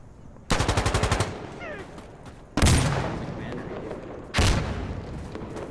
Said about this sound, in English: Wow, Uzi has a low fire rate.